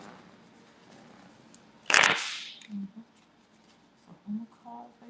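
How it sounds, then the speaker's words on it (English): Uno cards get a single quick riffle shuffle, a short crisp burst of fluttering card noise close by, with a voice speaking faintly around it. "I do got some Uno cards right here. I'm about to shuffle up."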